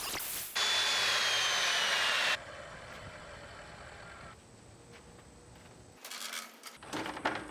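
Table saw ripping wooden boards down the center for a paddle board build, a loud steady whine of the blade cutting through the wood, then a lower idling hum and a short burst of further sawing near the end.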